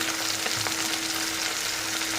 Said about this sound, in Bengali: নিচ থেকে এটা ভাজা হোক